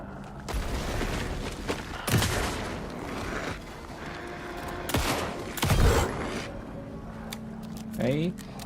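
Several sharp bursts of gunfire from a Hitman or Alan Wake 2 video game hit at uneven intervals, some loud and booming, over continuous game ambience. A voice talks across much of the stretch.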